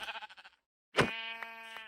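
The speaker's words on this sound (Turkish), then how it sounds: "Neyse şu koyun daha cazip geldi. Önce koyunu alacağım." A sheep in the Minecraft video game bleats once in a long wavering cry, preceded by a brief burst of other game sounds and then a short silence.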